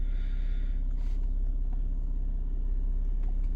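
A car engine runs at a steady idle, a constant low rumble close by with a faint hiss and no talking.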